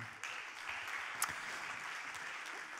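Audience applause welcoming an engineer introduced on stage at a cycling-themed talk, a moderate, steady clapping from a crowd with one brief sharper clap standing out partway through.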